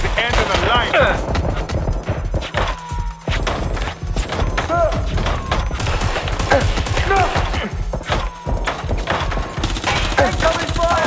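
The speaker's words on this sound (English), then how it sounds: "Incoming fire!" Gunfire in the video game Watch Dogs Legion, rapid bursts of automatic shots and scattered single cracks throughout a firefight, with game voices speaking over the action.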